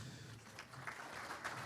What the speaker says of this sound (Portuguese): para encaminharmos o encerramento com a salva de palmas